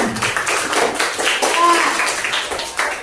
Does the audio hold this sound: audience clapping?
yes